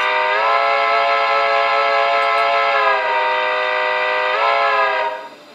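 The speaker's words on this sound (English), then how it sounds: "we've got F3, which is a long main line whistle" A Trix 22941 model SNCF Class 241 A locomotive's long multi-tone main line whistle blows steadily, dips slightly in pitch midway, swells again, then cuts off near the end.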